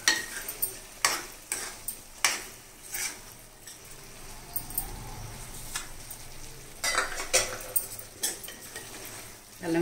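Sweet pumpkin curry with added jaggery is stirred in a pan, giving a low sizzle with intermittent spoon scrapes and taps against the metal, close and moderately quiet. A faint voice is heard.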